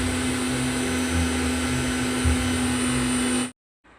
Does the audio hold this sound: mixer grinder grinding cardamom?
yes